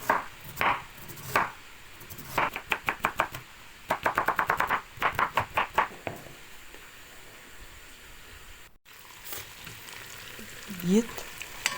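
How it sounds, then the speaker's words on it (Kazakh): Onion and carrot being chopped on a board for chicken pilaf, with rapid close knife strikes in quick bursts and short pauses between them, then a stretch of quieter kitchen sound with a brief voice near the end. "пияз бен сәбізін турап аламын"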